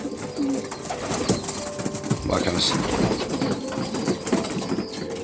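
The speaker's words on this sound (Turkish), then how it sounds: "Dişilerin hepsi kızgın tabi gördüğünüz üzere. Erkek gibi ötüyorlar arkadaşlar." Female post pigeons in a loft cooing like males, repeated low throaty coos layered over one another with some wing flutters, while someone talks briefly over them.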